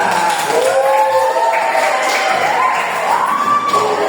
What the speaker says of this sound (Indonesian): Yang lain kita berikan tepuk tangan untuk kelompok 3.